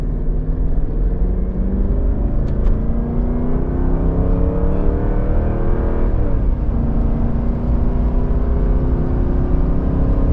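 A 2003 Mercedes S 500 AMG accelerates steadily on the road, its V8 drone rising through the gears with a brief dip at a shift, loud and continuous from start to finish with no talking.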